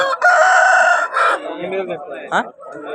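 A rooster crows loudly and close by at a rooster market in Vijayawada, a long strained call lasting about a second, followed by softer clucking and bird noises with faint voices nearby.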